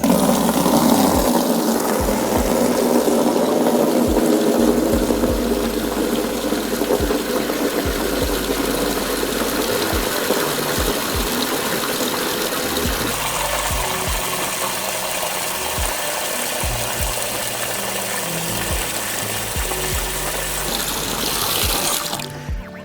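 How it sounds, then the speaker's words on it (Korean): Tap water rushes steadily into a car wash bucket for over twenty seconds, a loud, close, continuous splash with a faint low hum beneath it. "그 다음에 물을 받으시는 거예요"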